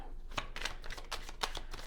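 Tarot cards being shuffled up close, a series of quick crisp riffling bursts in an irregular rhythm.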